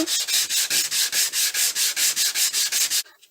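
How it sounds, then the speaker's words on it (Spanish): Hand sanding of wood along the grain with 220-grit sandpaper: about fifteen steady, even back-and-forth rasping strokes, loud and close, then it stops abruptly. "primero procedemos a lijar con la lija de 220, la más gruesa, a favor de la veta."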